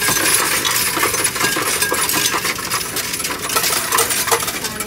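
Coins clattering and tumbling continuously inside a Coinstar coin counting machine, a loud, dense metallic jingle that runs unbroken for several seconds, with no voices.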